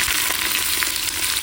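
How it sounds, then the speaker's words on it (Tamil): Onions sizzling and frying in a pan with whole spices such as cinnamon, cloves and cardamom while preparing biryani, a steady close crackling hiss throughout with no talking. "வெங்காயம் நல்லா வதங்கிட்டு இருக்கு."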